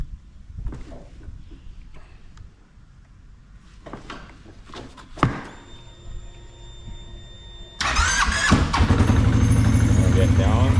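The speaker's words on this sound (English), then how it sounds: "hit the starter." A CFMOTO engine cranks over and catches, then settles into a steady, loud idle close by, with a person talking briefly before it starts.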